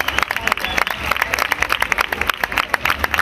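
A crowd applauds with dense, rapid clapping throughout at a festival queen pageant honoring a maid of honor, and a voice may be faintly mixed in beneath the claps.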